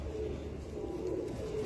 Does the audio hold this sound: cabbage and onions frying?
no